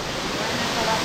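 Boddugudem waterfall in the forest near Bhadrachalam, heard up close as a loud, dense, continuous rush of falling water over a brief moment.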